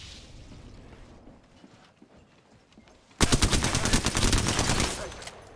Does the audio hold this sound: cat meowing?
no